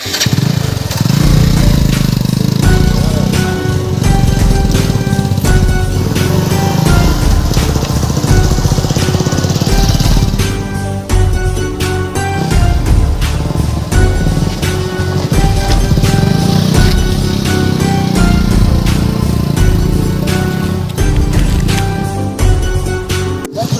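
A motorbike engine runs loud and close for the whole stretch, a steady rough drone with a brief dip midway, with no talk over it.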